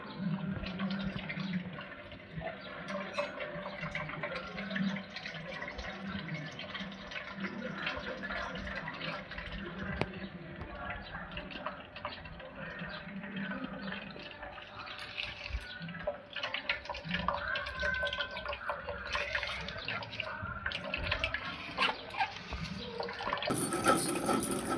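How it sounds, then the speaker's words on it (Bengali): Juice being strained trickles and drips steadily for a long stretch, a soft, close liquid patter without talk that grows louder and brighter in the final moment. "বন্ধুরা, জুসটাকে এবার আমরা ছেঁকে নেব।"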